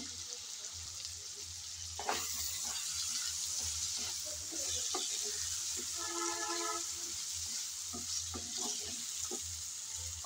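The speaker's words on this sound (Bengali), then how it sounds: "কিছুক্ষণ পরে এসে আমি আবারও একটু নেড়ে চেড়ে নিচ্ছি" Potato pieces fry in a pan with a little oil, a steady close sizzle broken by scraping strokes of a spoon as they are stirred.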